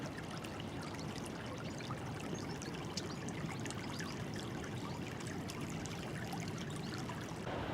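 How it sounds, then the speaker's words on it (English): River water gurgles and rushes in a steady, continuous flow into the sea on the Cornish coast between Holywell Bay and Newquay, with a dense bubbling texture that never lets up. "Trust you can hear that gurgling."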